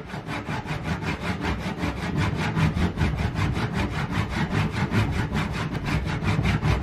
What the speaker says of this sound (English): Now we try sawing again. Pay attention to the cutting sound.